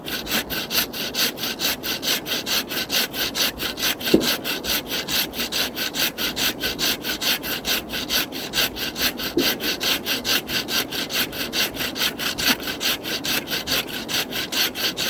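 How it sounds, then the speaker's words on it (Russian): Steady rhythmic strokes of a hand saw cutting through a tree trunk, even back-and-forth rasping repeated throughout, close and loud, with a few faint knocks and no talking. "О, полствола уже пропилил."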